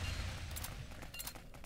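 A rapid volley of Rapid Cannon shots in the game Phantom Dust, a loud, dense stream of booming bursts with sharp repeated cracks over a constant low rumble.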